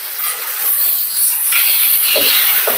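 Marinated chicken hits a hot pan of frying onions with a loud, close, continuous sizzle, a bright steady hiss that swells slightly as the pieces settle.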